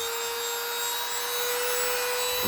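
Rotary engraver sharpening the edges of a medical instrument at speed setting five: a continuous high-pitched grinding whine with a steady hum, loud and close throughout, with no talk.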